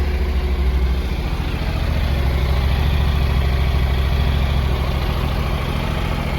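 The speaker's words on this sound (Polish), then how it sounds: "Motorek bardzo ładnie pracuje." A Honda NC 750 X motorcycle engine idles steadily and close by, a continuous low throbbing rumble with even pulses throughout, no voices.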